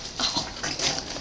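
A young puppy whimpers and whines in short, close, high-pitched bursts, with no voices over it.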